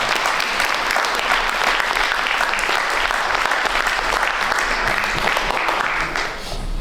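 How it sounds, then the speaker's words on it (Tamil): Audience applause after a dance performance at a Tamil stage event, a dense sustained clapping from a crowd that holds steady and full throughout, then begins to thin slightly at the very end. "அவரை இன்னொரு கைத்தட்டலுடன் பாராட்டுவோம்"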